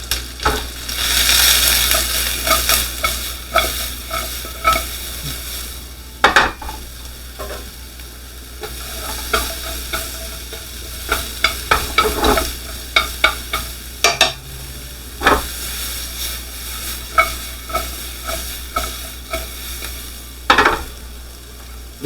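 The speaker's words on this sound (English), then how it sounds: "Stir frying does not have to be done over the fires of hell." Japchae vegetables sizzle and crackle in a hot, lightly oiled wok while being stir-fried, with repeated scraping and clattering knocks of a utensil against the wok.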